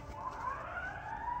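A rising and falling ambulance siren wails steadily through the whole moment, moderately loud and fairly close, with no talking over it.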